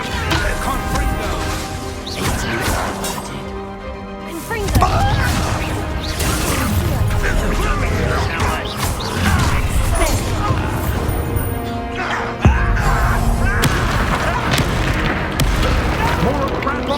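Confringo fire spells set off repeated booming explosions and crashes in the Hogwarts Legacy video game, loud and dense over a dramatic orchestral score, with a few voices speaking between the blasts.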